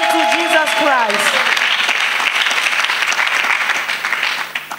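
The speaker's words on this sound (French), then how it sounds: "Clap offering to Jesus Christ." A church congregation applauds in praise to Jesus Christ, a dense, loud wash of clapping filling the room, with a singing or speaking voice gliding over the start before the crowd noise carries on alone.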